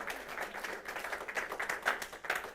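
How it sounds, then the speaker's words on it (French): A church congregation at an evangelical service claps steadily together, dense rhythmic applause at moderate distance, with scattered voices mixed in. "Applaudissons, acclamons le Seigneur, s'il vous plaît."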